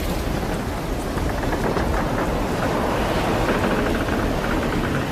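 Wind and crashing waves as a sound effect, a dense continuous roar of surf with gusting wind buffeting the microphone, loud and unbroken.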